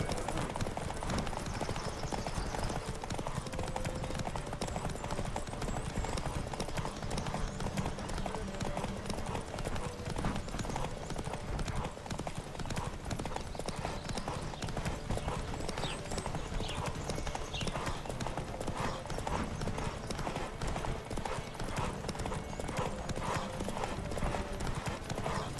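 Steady, rapid hoofbeats of galloping horses in a horse race in the video game Witcher 3 pound on without pause, loud and close, with faint voices and ambient game sounds mixed underneath.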